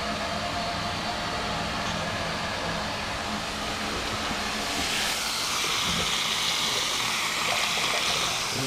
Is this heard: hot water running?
yes